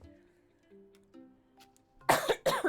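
Two sharp, loud coughs from a person sitting at a computer, close and dry, following a stretch of quiet game music.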